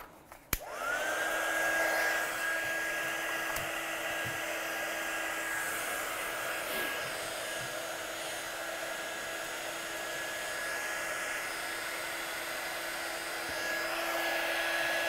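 Heat gun heat-setting stamped ink at a craft table. A steady blowing whine with an even fan hum starts almost at once and holds continuously at a moderate, close level, with no voices.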